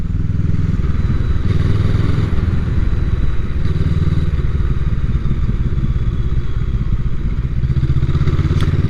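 Honda CMX 500 Rebel S cruiser engine while riding, a loud steady low rumble with a throbbing beat and wind noise, continuous throughout, no talk.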